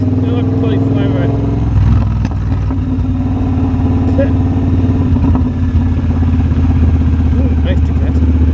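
A Triumph Bobber motorcycle engine drones steadily while riding, a loud constant low hum with slight shifts in pitch, accompanied by wind noise and a rider talking over it.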